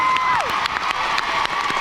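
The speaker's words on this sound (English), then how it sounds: "give yourselves a big round of applause and a big cheer now" A lively crowd claps and cheers loudly at a gathering on the Isle of Man, with whoops and shouts from children mixed into a dense, steady wall of applause up close.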